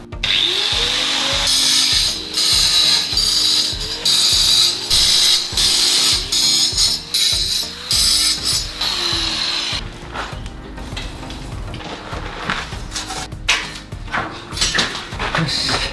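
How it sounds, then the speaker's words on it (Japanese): Steel rebar tied with binding wire being cut near a corner during garage slope work, a loud close power-tool grind in repeated bursts with brief pauses, then quieter scraping and rattling toward the end. "結束線で鉄筋結んだので、角から少し離れた位置で鉄筋を切っていきます"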